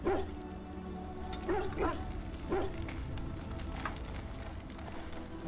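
A dog in the Dragon Age: Origins game: several short yips and barks with a whimpering quality, spaced unevenly over a few seconds against background game ambience.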